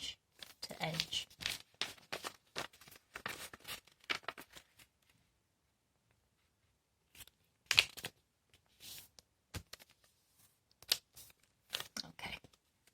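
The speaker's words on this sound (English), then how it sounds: "we're going to fold edge to edge" Paper being folded edge to edge for an origami butterfly, with crisp creasing and rustling in irregular bursts, a quiet pause midway, then a few more sharp crinkles, close and faint.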